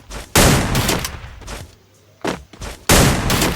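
Rapid bursts of gunfire from paired guns in the shooter game Free Fire, several loud volleys separated by short pauses with a faint crackle between bursts.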